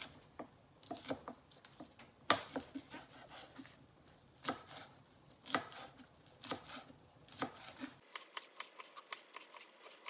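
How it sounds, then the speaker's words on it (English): Green onion stalks and a handful of cilantro chopped on a cutting board with a knife while preparing garnish for mushroom soup, a close run of crisp, fairly quick cuts, irregular and alone, with no talk. "the last ingredients that we will chop up will be 2 stalks of green onions and a generous handful of some cilantro"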